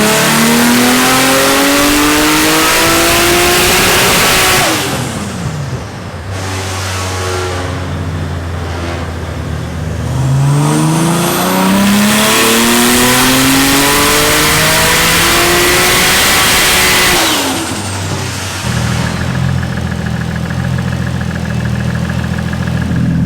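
A Toyota Chaser's 2JZ engine, boost turned up, runs on a dyno. It revs hard and loud through repeated climbing pulls that drop back between runs, with a steady drone throughout.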